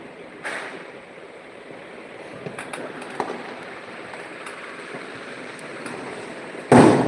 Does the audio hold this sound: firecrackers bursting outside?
yes